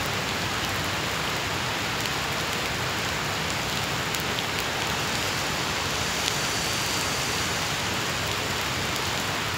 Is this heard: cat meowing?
no